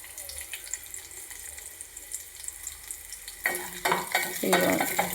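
Onions and curry leaves fry in a pan, a soft steady sizzle that swells into louder crackling and spattering in the final couple of seconds, with no talking.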